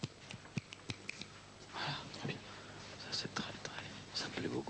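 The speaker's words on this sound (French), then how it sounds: "Alors on entend des claquements de doigts." An audience at a 1986 billiards match snaps their fingers as applause. A few sharp, scattered snaps come through clearly at the start, then trail off sporadically under soft whispering and quiet speech.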